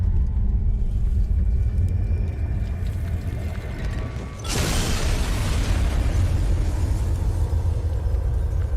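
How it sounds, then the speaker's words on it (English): An explosion in the video game Fallout New Vegas: a sudden loud burst about halfway through, breaking a constant heavy rumble that continues strongly afterward. "this explosion woke up something even more ferocious"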